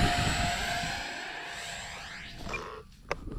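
A small Arrows T-33 radio-controlled model jet on its maiden flight passes overhead with a whining motor, the tone sliding downward as it recedes, then fading out abruptly near the end.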